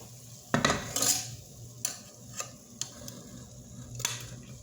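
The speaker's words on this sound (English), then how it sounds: "I'm going to pick up this very heavy pan" A heavy pan is lifted and its contents added to warm ramen broth, giving a few sharp metallic clanks and knocks spaced over a quiet kitchen background.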